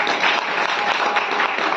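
A short, loud burst of enthusiastic clapping from an audience at a Shrimad Bhagavat katha gathering in Vrindavan, dense and continuous for under two seconds.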